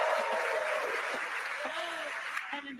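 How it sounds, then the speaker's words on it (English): An excited crowd cheers and applauds at a SpaceX launch viewing in Hawthorne, a dense, steady wash of clapping and whoops with a commentator talking over it throughout. "And an extremely excited crowd here in Hawthorne."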